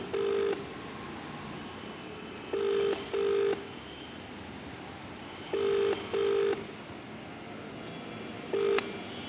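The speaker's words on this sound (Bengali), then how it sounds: "ফোন রিং হচ্ছে কিন্তু এই ফোন তিনি ধরছেন না" A phone ring tone repeats in paired bursts with pauses between, steady and unanswered, heard through a line with faint background hiss, a call to a college principal.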